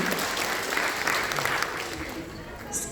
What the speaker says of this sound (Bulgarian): Аплодисменти, моля!